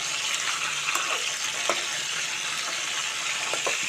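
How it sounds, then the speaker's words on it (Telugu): Stuffed brinjals (gutti vankaya) cooking covered in oil, giving a steady, close sizzling hiss with small scattered pops and crackles throughout, no voices. "వంకాయలు అయితే చక్కగా ఆయిల్లో మగ్గుతున్నాయి"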